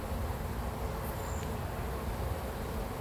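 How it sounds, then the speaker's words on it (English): Honeybees buzz steadily around an opened queen cage, a continuous close insect hum with a faint higher whine of a single bee passing briefly through. "Now I've got other bees that are trapped in the other side of it."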